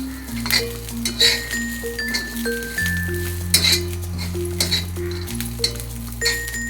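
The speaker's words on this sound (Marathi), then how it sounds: "गॅस थोडं कमी करायचं, खोबरं भाजून घ्यायचं थोडं हलकं त्याच्यातच। लसूण पण टाकली त्याच्यातच।" Coconut and garlic roasting in a pan, with spoon clinks and scraping strokes over a soft sizzle, set against a steady background of music tones.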